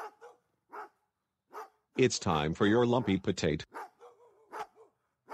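Several short dog barks and yips spaced out, with a person speaking in the middle.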